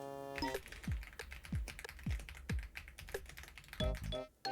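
A loud computer keyboard clacks in quick, uneven bursts of close keystrokes and a few heavier key thumps, with no talking over it.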